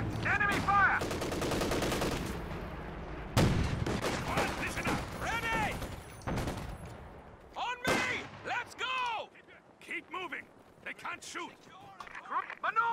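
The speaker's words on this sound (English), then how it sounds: "Contact. Enemy fire." Enemy gunfire in the World War II game Company of Heroes 2: bursts of rifle and machine-gun fire and sharp shots rattle through, mixed with shouted soldier voice lines and battle chatter, loud and intermittent across the scene.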